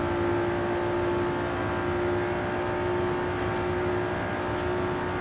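A Nissan GT-R R35 Nismo with a V6 engine accelerates uphill in Forza Horizon, its engine a steady, sustained drone with a constant tonal whine and no pauses.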